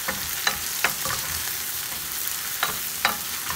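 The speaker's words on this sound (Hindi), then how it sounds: "यहाँ ऑयल गर्म हो गया है तो मैं उसके अंदर डालूँगी प्याज।" Onion and fresh curry leaves frying in hot oil, a loud continuous sizzle punctuated by several sharp spatters and pops, close and alone with no talk.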